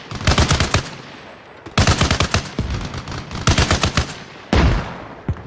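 Several rapid bursts of machine-gun fire in the video game Arma Reforger, loud and close, each rattling volley lasting about a second with short pauses between, and one heavy single report near the end.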